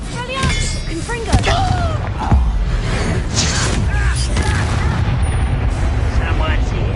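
Spell combat in Hogwarts Legacy, with Expelliarmus and Confringo spells going off as sharp blasts, thuds and whooshing bursts amid chaotic battle noise, while voices shout and talk throughout.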